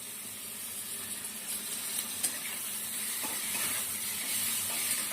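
Onion, chili and amudi fish frying in a pan, giving a steady, soft, close hiss and sizzle throughout with a few faint clicks and no talking.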